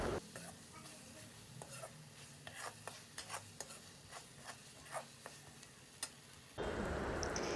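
Chicken meat, about a kilo, going into a hot pan for a Bengali chicken curry, sizzling steadily with frequent scraping stir clicks, then a sudden louder, denser hiss near the end as the meat hits the oil.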